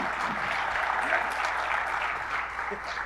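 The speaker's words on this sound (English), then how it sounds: "We all clap loudly." Audience applause fills a conference talk on database storage engines, a steady dense clatter of many hands clapping loudly throughout with no break.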